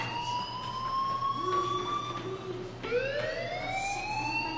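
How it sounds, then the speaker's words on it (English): A fire alarm in the video game Life Is Strange sounds as a steady, loud electronic siren tone that holds and then shifts pitch, with a low hum underneath and no talking. "Hey, do you hear that fire alarm?"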